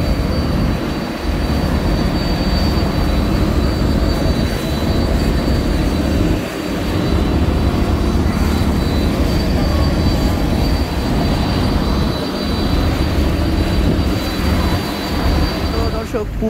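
MV Adventure 9, a passenger launch with a new engine on its return trip from Charmonai, overtakes three other launches. A loud, constant engine roar and rushing wind fill the whole stretch without letting up.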